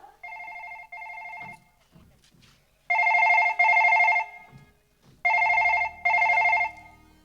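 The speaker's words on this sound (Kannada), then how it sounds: "ಹೊರಗೆ ಬಾರವ, ಫೋನ್ ಬಂದತಿ ನೋಡ್ಬಾ" A telephone rings indoors in pairs of loud, steady electronic bursts, three double rings separated by short pauses, with faint room noise between them and no talking.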